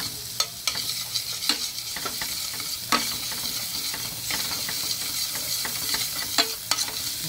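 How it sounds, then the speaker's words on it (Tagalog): Garlic sautéing in margarine in a pan for a sweet and sour cream sauce, a steady close sizzle broken by repeated sharp scrapes and clacks of a utensil stirring, with no talk. "igigisa na po natin ang ating sweet and sour cream"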